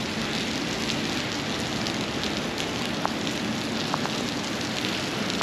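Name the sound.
rain and wind during tropical storm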